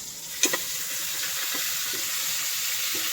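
A thick, fatty ribeye steak sizzles steadily in a pan, with a couple of sharp clatters near the start as it is flipped over, followed by continuous close frying hiss.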